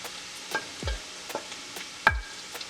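Smoked turkey sausage browning in a hot pan gives a soft, low sizzle, broken by a few scraping stirs and light utensil knocks, close by with no talking.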